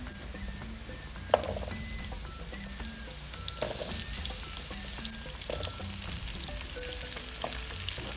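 Carrots frying in a pan for Filipino kaldereta give a steady, close sizzle, with occasional sharp clicks and scrapes of a utensil against the pan.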